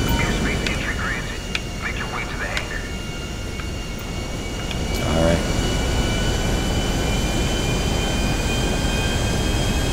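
Steady roar of a large plane coming in to land at Fort Zancudo in GTA 5 Online, a constant engine drone that swells slightly midway, with a voice talking over it.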